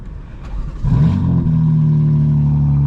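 A BMW M4 Competition xDrive tuned to 800 hp fires up with its exhaust valves open after a quieter lead-in. The engine catches with a loud bark, then settles into a steady, deep, rumbling idle close by.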